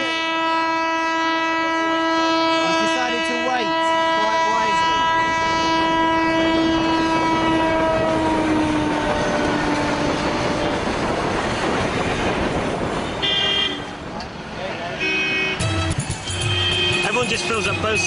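Train horn blaring long and loud at a level crossing as the train arrives, then the rumble and clatter of the passing train, with people talking over it.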